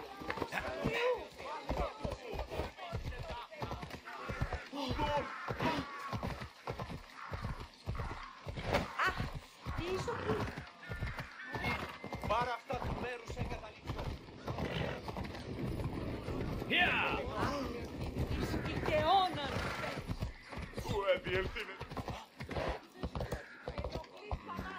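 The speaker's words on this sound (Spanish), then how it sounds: "Vamos a llamar al caballo, ¿no?" Horse in Assassin's Creed Odyssey, its hooves clip-clopping in a steady run across the whole stretch with an occasional neigh, all under someone talking over the game.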